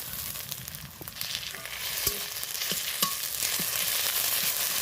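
Ginger and garlic frying with onions in a pan make a loud, close crackling sizzle that grows slightly denser, with occasional stirring taps and no talk.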